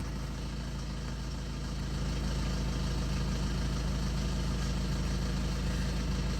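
A Maruti Ritz car idling just after starting, with its tachometer needle flickering. The engine gives a steady low hum and rumble that grows slightly louder after about two seconds, and no one talks over it.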